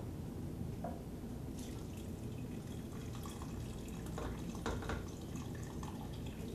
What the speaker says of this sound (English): I'm going to add that, another can of that into here